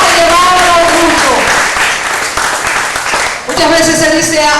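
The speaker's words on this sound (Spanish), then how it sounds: "Dale fuerte el aplauso al Señor" A church congregation applauds for the Lord, a loud stretch of clapping blended with raised voices and a prominent voice speaking over it, rising again at the close.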